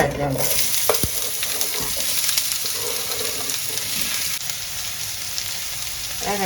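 Onions sizzle and fry in hot oil with fennel seeds and cloves for a South Indian chicken liver fry, a steady close crackle with occasional stirring, and no talking.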